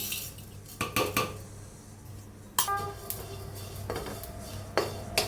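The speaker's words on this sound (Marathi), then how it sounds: "ह्याला बी हलवून घेऊया छान भाजून घेऊया" A spoon clatters and scrapes in a pan as grated coconut and sesame seeds are stirred while dry-roasting, with sharp metallic clinks at intervals over a quiet background.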